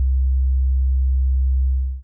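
A pure, low bass tone from a simple bass wave hums steadily for about two seconds, smooth and clean, then cuts off abruptly.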